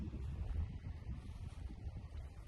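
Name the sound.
wind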